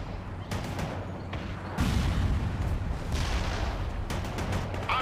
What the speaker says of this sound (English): Fire the missile.